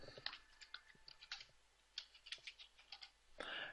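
Someone types on a computer keyboard at a quiet desk, with irregular clusters of light key clicks, close and faint, ending in a short, louder clatter.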